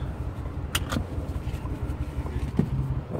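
2018 Mustang GT V8 engine idling rough after an engine failure, a low uneven throbbing heard from inside the car with a faint tone near the end, steady and close.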